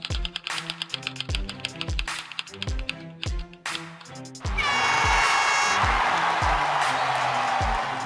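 An online wheel of names spins on screen, its ticking starting as a steady run of sharp clicks, then gives way to a loud burst of bright, noisy sound like a celebratory chime or cheer.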